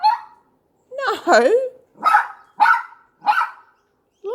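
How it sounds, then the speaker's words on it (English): A small dog barks sharply about six times in an uneven rhythm, loud and close, with short yips and pauses between, and a person briefly speaks. "You can't keep barking."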